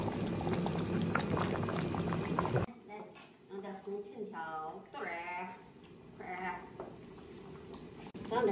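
Henan dough-drop soup boiling in a pot, with a dense bubbling and rolling boil loud for the first few seconds, then quieter while people talk over it.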